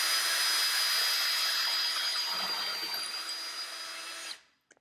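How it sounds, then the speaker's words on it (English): A power drill pre-drills a screw hole with a slightly undersized bit while building a trailer brace. It whines steadily and close for about four seconds, the pitch sagging a little under load, then spins down and stops. "a little pre-drilling can help"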